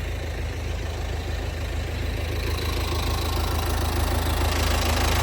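A used 45-horsepower Kubota L4508 tractor's diesel engine runs close by with a steady low rumble that swells slightly as it is revved, heard alone with no talk.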